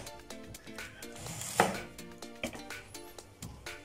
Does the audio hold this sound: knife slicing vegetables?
yes